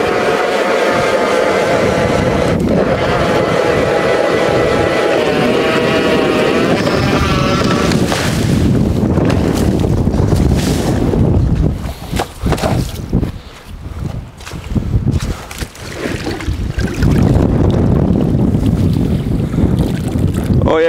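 A motorized ice auger drones loudly and continuously, its pitch shifting as it grinds through about 18 inches of lake ice on Big Detroit Lake, with gusty wind noise buffeting the microphone.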